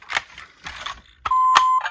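An electronic board game timer being switched on and started, a few short clicks and taps followed by a clear steady electronic beep tone lasting about half a second, close and fairly loud.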